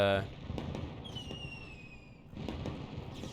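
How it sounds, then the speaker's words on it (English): Fireworks bursting in the industry management game Rise of Industry: 2130, crackling pops with whistling tones rising and falling, heard under someone talking. "Where's the fireworks?"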